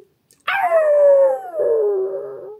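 A person imitates a wolf howling with the voice: one long drawn-out howl that slowly falls in pitch, breaks briefly, then carries on into a second falling phrase, close and loud, heard alone.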